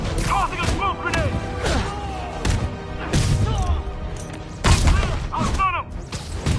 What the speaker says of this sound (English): Tossing a smoke grenade!